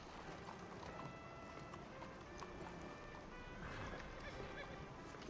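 Horse hooves clop in a steady galloping rhythm in Red Dead Redemption 2. The sound is faint and continuous, with some voices underneath.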